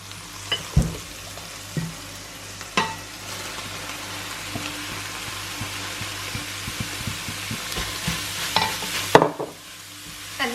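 Vegetables and cauliflower sauté in a pan for a keto risotto, giving a steady sizzle throughout, broken by scattered clinks and scrapes of stirring and a louder clatter near the end.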